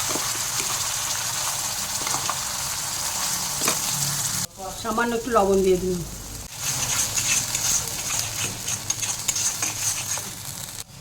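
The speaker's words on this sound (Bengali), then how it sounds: "মশলাটা ভাজা ভাজা হয়ে গেছে," Spice paste of poppy seed, mustard, green chilli and ginger sizzling in a pan with periodic stirring, heard close; midway a voice speaks briefly over a quieter stretch before the frying hiss returns.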